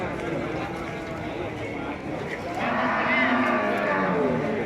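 Cattle moo at a livestock sale of Brahman and Limousin bulls. Low drawn-out calls rise in the second half over continuous nearby talk and general yard noise.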